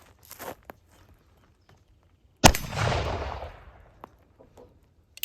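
Single sharp gunshot from a Remington New Model Army black powder revolver loaded with 30 grains of homemade 3F Swiss-style powder and a .457 round ball, loud and close, with a rumbling decay after the blast and faint footsteps and handling noises around it.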